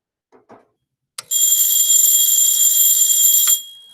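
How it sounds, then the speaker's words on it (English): Electric doorbell with its hammer striking the bell, set up as a classroom demonstration: after a couple of faint knocks, a loud continuous metallic ringing starts abruptly, holds steady for about two seconds, then cuts off with a short decay. "You can hear the doorbell right now because as the hammer is hitting against the bell"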